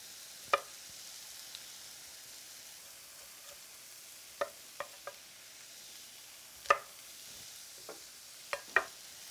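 A quiet, continuous sizzle of mushrooms sautéing in a pan, broken by occasional sharp clicks and scrapes of stirring.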